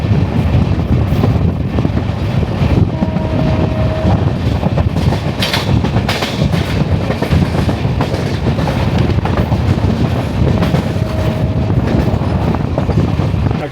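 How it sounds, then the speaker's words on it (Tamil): A Tirunelveli–Mangaluru Junction train rumbles steadily past nearby, loud and continuous, with rattling wheels, brief horn-like tones, and wind buffeting the microphone. "திருநெல்வேலியிலேருந்து மங்களூர் ஜங்ஷனுக்கு ஒரு ட்ரெயின் நம்ம முன்னாடி கிராஸ் ஆச்சுல"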